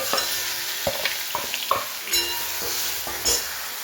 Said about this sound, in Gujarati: થોડીક વાર ડુંગળીને થવા દઈએ